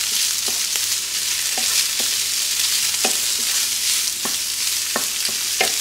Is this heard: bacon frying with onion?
yes